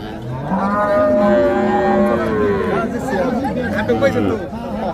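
A calf at a cattle market in Hazratpur, Dhaka, lets out a long, low, drawn-out moo that fades into a second lower call, with voices chattering in the background.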